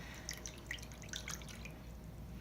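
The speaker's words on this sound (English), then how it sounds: "I'm going to add just a little bit of water to that, just a little bit" Water for a red onion skin dye for paper trickles in small drips and splashes, a light irregular patter close by with no talk.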